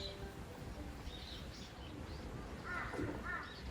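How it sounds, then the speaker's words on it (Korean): A crow caws faintly in the background outdoors in a rural garden, a few brief rasping calls near the end over a low steady wind-like hiss, with other birds chirping quietly. "뒤쪽에서는 까마귀가 깍깍거리고"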